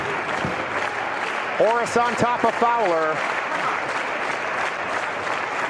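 A wrestling crowd at an AIWF event roars and applauds in a continuous wash of noise, with an excited commentator talking over it and a brief chant rising midway.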